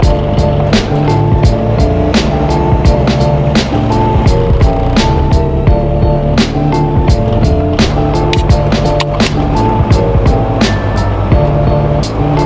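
Loud, constant engine drone fills a rattling Volkswagen cabin, with a deep rumble from an oversized exhaust and frequent clicking rattles throughout.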